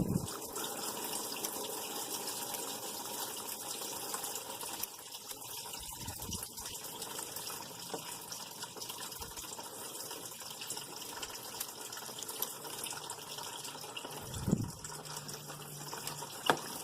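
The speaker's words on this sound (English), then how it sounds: "Man, that is just pouring out now." Engine coolant gushing from the removed thermostat housing of a 2003 Ford Focus 2.0L SOHC, a steady, loud splashing stream that runs continuously with a few brief clanks near the end.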